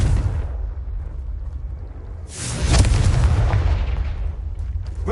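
A Confringo fire spell in Hogwarts Legacy bursts out as a loud, close boom that rolls into a long, noisy roar, following a dense, rumbling stretch of game sound, with no talking.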